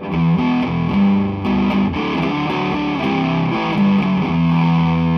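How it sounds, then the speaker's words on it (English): Electric guitar through a distortion pedal playing chugging, palm-muted notes in a steady riff, heavily distorted, loud and close with no voices. "Another thing that I like on distortion pedals is when you palm mute it"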